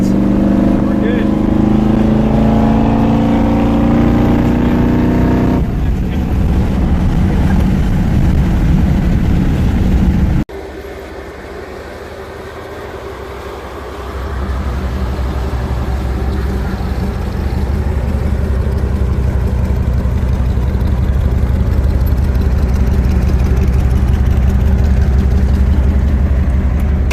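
A 1957 Chevy Bel Air engine hums loudly and steadily while driving, with a shift in pitch and load partway through and a brief dip before the drone builds again; speech is heard over the engine.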